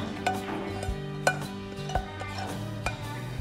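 Fried spices being stirred into vegetables for Balinese urap, repeated scraping and clinking of a utensil against a pan at an uneven rhythm, close and moderately loud.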